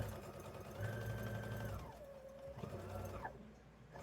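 Sewing machine stitching a fabric tote bag, a short whirring run that stops and restarts with mechanical clatter, close and quiet with no talking.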